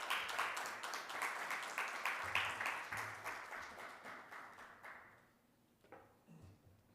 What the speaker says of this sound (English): Please give her a big round of applause as she makes her way to the stage.